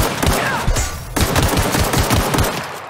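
Rapid, loud gunfire as a full magazine is emptied in the video game The Outer Worlds: a dense, close burst of shots fired back to back with no talking.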